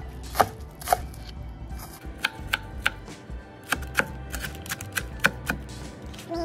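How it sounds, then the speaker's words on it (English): A knife chops food into small pieces on a cutting board, producing about a dozen close, crisp knocks in an uneven rhythm with short pauses between strokes. "Chop these up small too."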